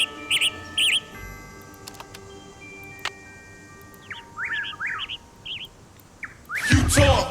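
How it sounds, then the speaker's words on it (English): A western tanager song plays from a bird-sound cassette in the Nancy Drew game Ghost Dogs of Moon Lake: short, bright chirps and rising whistled phrases in scattered bursts, with a loud rustling burst at the end. "Western tanager."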